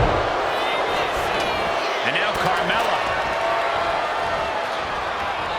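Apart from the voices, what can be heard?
raucous wrestling crowd in WWE 2K25 video game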